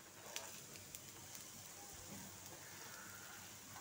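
Tikki patties frying in hot oil, a soft, steady crackling sizzle with occasional small pops, faint and close, with no talking.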